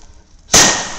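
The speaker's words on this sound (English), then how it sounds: "The rocket's lit." Firework rocket fired from a mortar tube: a sudden loud whooshing burst near the listener after a quiet moment, followed by a second sharp crack at the end.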